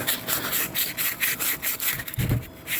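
A cylinder hone fitted with 320 grit stones works inside an engine cylinder, producing close, fast rhythmic scraping strokes with a short low thump near the end and no talk.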